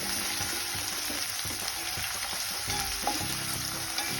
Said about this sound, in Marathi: आता आपण हे थोडंसं भाजून घेऊया कांदा